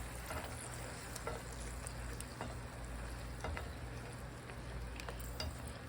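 Garlic and parsley sizzle steadily in a pan of oil for pasta, a continuous soft crackle with occasional small pops and light stirring clinks, close and moderately quiet with no talking.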